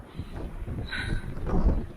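Gusty cold wind in New Hampshire buffets the microphone with a low, rumbling roar that swells toward the end, no voices heard.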